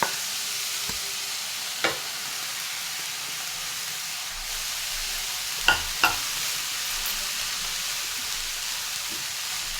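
Crushed cabbage for cabbage thoran stir-frying in a pan gives a steady, soft sizzling hiss, broken by a few sharp scraping knocks of a spoon against the pan.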